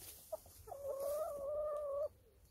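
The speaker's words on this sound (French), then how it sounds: "Bonjour monsieur le coq." A rooster crows once on a farm with hens nearby, a single drawn-out tonal call lasting over a second after a short cluck, heard fairly close but not loud against quiet background.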